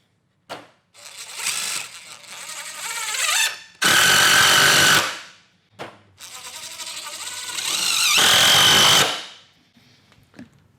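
A power drill fitted with a Dewalt Flextorq bit drives T25 screws in a series of whirring bursts of rising pitch. Each burst ends in a sharp, loud strain as a screw seats, and short pauses fall between the drives.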